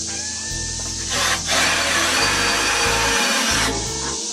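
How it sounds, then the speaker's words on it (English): A power drill bores holes through stainless steel sheet for mounting a water pump on a portable concession sink, the motor whining up and down in short loud bursts with brief pauses between. "I may actually go ahead and drill the holes"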